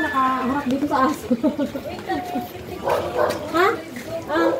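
A dog barks and yips repeatedly outdoors in a residential neighbourhood while people talk over and around it, the barks mixed in with the voices.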